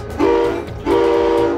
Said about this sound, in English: Pull on the whistle twice.